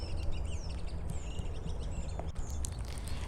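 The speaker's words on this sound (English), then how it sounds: "you can even listen to all the bird sounds" Birds chirp and call in scattered bursts during an outdoor walk, fairly faint over a constant low rumble of background noise.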